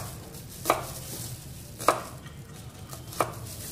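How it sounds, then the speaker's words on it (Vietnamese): Knife chopping an onion on a cutting board in a home kitchen: three separate, crisp thuds at slow, uneven intervals against a quiet background. "Các bạn thái hành ra cho mình."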